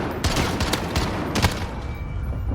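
MK 14 EBR rifle fire crackles in Call of Duty Modern Warfare, several sharp shots spread over a few seconds above a dense, noisy battle background of distant gunfire.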